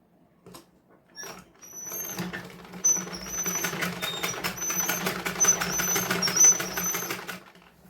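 A sewing machine runs steadily while a neck strip is stitched onto a blouse, a close continuous mechanical whirr with rapid ticking that starts after a few light handling sounds and carries on to the end, no voices.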